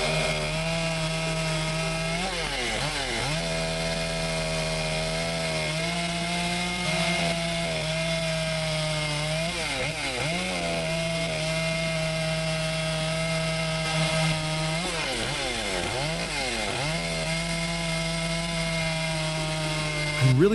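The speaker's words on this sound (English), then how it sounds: "I'm really impressed by how smoothly it cuts. This chainsaw is a real powerhouse." A Solo 681 chainsaw cuts through wood, its engine holding a loud, steady drone close by for the whole stretch, with repeated rising and falling revs as the bar bites into each cut.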